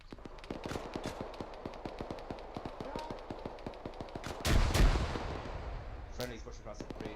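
Rapid bursts of gunfire crackle through a field training exercise, with repeated sharp shots in steady volleys and a heavier, louder blast midway, under radio chatter and voices.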